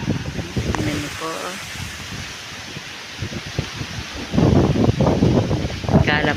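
Gusty wind blowing hard against the microphone, with rustling and a voice speaking in the middle and toward the end.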